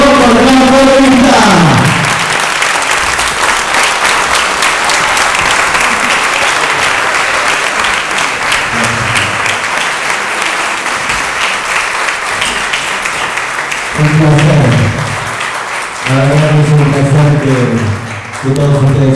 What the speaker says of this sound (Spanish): Fuerte aplauso para que esta reunión feliz valga el cuerpo por la comunidad.